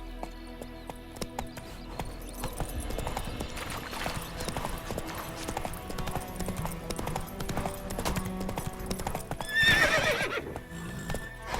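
A horse in The Witcher 3 gallops with steady, rapid hoof clops and lets out a sharp neigh near the end, close and fairly loud against faint game ambience.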